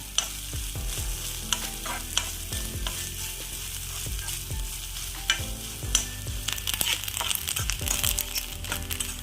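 Coconut frying in hot ghee in a pan for unniyappam makes a constant, close sizzle, and a spoon stirring it adds repeated scraping knocks every second or two.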